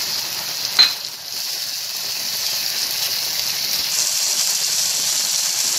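Ginger garlic paste sizzles steadily in a hot pan while channa is being cooked, a continuous close frying hiss with a brief sharp crackle near the start and no talking.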